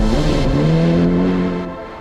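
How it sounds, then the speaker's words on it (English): Classic BMW rally car on a dirt-road stage of a New South Wales rally, its engine droning loud and close with a steady rising tone before easing off near the end. "Ben Barker and Damien Long were next in the classic BMW."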